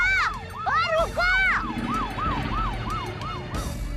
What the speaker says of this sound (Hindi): मैंने अपने मोबाइल से पुलिस की सायरन बजाई थी